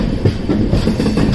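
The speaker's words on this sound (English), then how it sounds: "Here we are diverting our train to the loop line." A Konkan Railway train switching onto a loop line, with a steady rolling rumble and repeated clickety-clack of wheels over the points, heard close and continuous.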